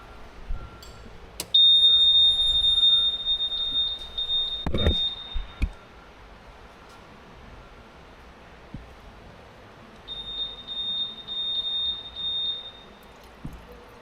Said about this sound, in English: So the alarm you got right now is going to be a 20-hour service alarm.